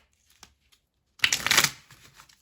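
A cheap deck of playing cards is shuffled up close: a few faint taps, then a quick riffling flutter lasting about half a second that trails off into light card handling.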